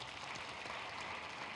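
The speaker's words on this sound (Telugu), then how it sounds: "ఒకసారి మెడిటేషన్ గట్టిగా చప్పట్లు కొడదాం" An audience claps together in a hall at a meditation gathering, a brief, dense and even burst of applause with no voices.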